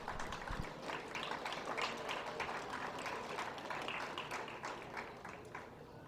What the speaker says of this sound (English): Let's give these guys a big round of applause.